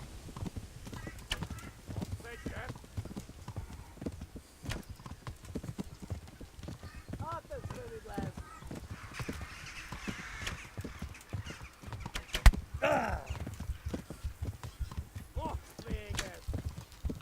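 Horse hooves galloping in Kingdom Come: Deliverance, a fast continuous clip-clop close by with a brief whinny, with a voice occasionally urging the horse on.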